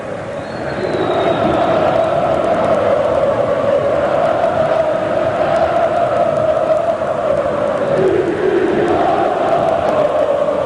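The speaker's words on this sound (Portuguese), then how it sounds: "A torcida do Flamengo não para de cantar um só instante." Flamengo fans singing nonstop in the stadium during the 2006 Copa do Brasil final against Vasco, a loud, sustained massed chant filling the stands, steady and distant-sounding throughout.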